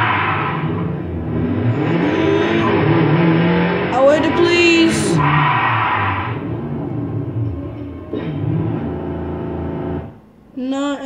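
Car engines from the racing video game Need for Speed World Beta run under lively, overlapping talk and shouting from nearby players, steady throughout with brief revving swells.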